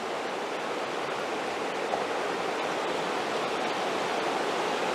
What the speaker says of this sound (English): This is the Uinta. Right. Boy, it is a nice river.